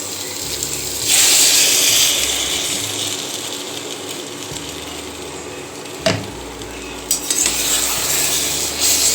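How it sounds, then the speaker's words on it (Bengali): A poppy seed and green chili paste is stirred into potatoes and pointed gourd frying in a pan, giving a loud close sizzle with scraping, rattling stirring strokes and a couple of sharp knocks against the vessel. "পোস্ত আর কাঁচা লঙ্কা একসাথে পেস্ট করে নিয়েছি এটা দিয়ে দেবো এর মধ্যে"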